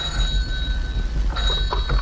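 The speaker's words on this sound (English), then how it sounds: "This is Inspector Murray ringing for Keene." A telephone bell rings in an old radio-drama mystery, a sharp metallic trill repeating in short bursts over a low hum, with no voices during the ring.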